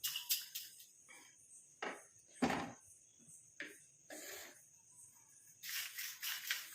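Coconut, curry leaves and nigella seeds roast in a pan, giving faint, scattered crackles and pops in short bursts with quiet gaps between.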